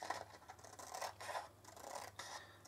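Scissors cut through lace for a wall hanging, making soft, close snipping and rasping strokes in a loose repeating rhythm. The cutting is quiet and no one speaks.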